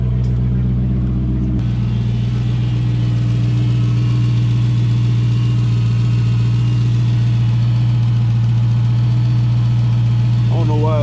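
A car idles with a broken rear exhaust section, giving a loud, close, steady low rumble with a throbbing drone that barely changes throughout.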